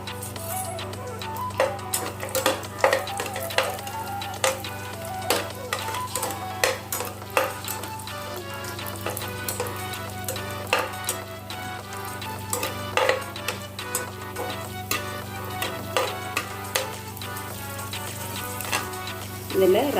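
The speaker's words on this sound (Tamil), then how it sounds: "கொஞ்சம் திராட்சையும் கேஷ்யூயும் இதில் போட்டு ஃப்ரை பண்ணிக்கலாம்" Raisins and cashews frying in oil in a pan, a steady sizzle broken by frequent sharp clicks and taps of a spoon stirring against the pan, with no one speaking.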